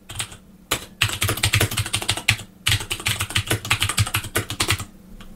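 Text being typed on a VIC-20 computer keyboard, a close, steady run of clattering keystrokes in quick irregular bursts with brief pauses, no voices.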